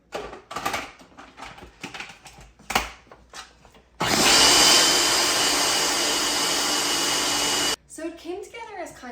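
A food processor mixing dough, a loud, steady whirring motor burst lasting several seconds, set between stretches of clattering kitchen noise and talk.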